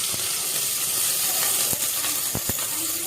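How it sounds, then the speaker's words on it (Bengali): Onion sizzles in hot oil in a wok, a steady crackling hiss punctuated by sharp clinks and scrapes of a utensil against the pan, close and moderately loud with no talking. "আমরা এখন কড়াইয়ের মধ্যে একটু তেল দিয়ে নিচ্ছি"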